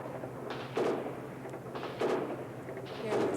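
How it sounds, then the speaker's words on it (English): Three sharp reports of gunfire, spaced about a second apart, sounding distant and muffled over a steady background rumble, from behind the White House government building in Moscow as two sides trade automatic weapons fire. "you can hear some more gunfire from the back of the White House building"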